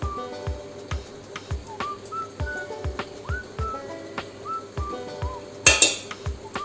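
Ice cubes and ghee dropped into a mixer jar, with a steady series of light clinks and knocks plus a louder clatter near the end.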